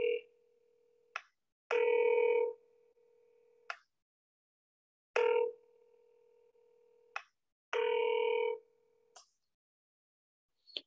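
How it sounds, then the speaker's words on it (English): A telephone line gives a repeating busy signal: short tone bursts separated by clicks and gaps, clear and moderately loud with no talking over it. "What was that? Like a busy signal."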